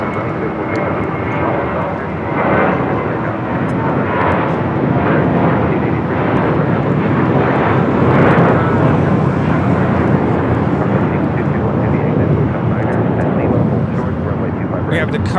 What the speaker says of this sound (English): We have the Cargo King touching down here on the south side.